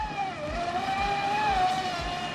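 A large Pro Boat brushless 6S RC boat runs with a steady high-pitched electric motor whine that wavers slightly as throttle changes, close and continuous, with a low rhythmic thumping underneath and no talk.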